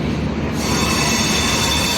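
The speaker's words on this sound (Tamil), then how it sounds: "ட்ரெயின் வந்து விட்டது." A double-decker passenger train pulls into a station in Chennai, its loud, steady rumble of railcars and wheels continuous throughout, with a high metallic squeal riding over the noise and no voices.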